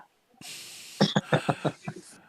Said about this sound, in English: We can hear you clearing your throat.